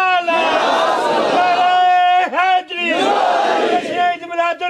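A large crowd at a religious naat gathering roars a chant back in reply to a takbir call, loud and sustained voices swelling together in two long surges with a short break between them.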